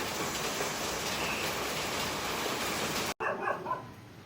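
Steady rain pours down, a dense even hiss of falling water that cuts off abruptly near the end, followed by quieter ambient sound.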